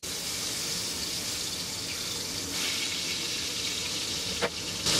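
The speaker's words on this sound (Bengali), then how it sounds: "এখন এর মধ্যে আমি টমেটোগুলোকে দিয়ে ভেজে নিব, একটু নরম করে" Tomatoes fry in a pan as a loud, continuous hiss and sizzle, with a brief clatter near the end.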